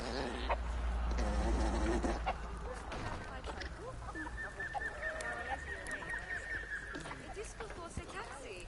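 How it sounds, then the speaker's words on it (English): Game-world chicken clucking in a Planet Zoo Norse village scene, an odd repeated squawking call over music and ambient park noise, with a person talking through much of it. "Was that chicken making a really weird noise then"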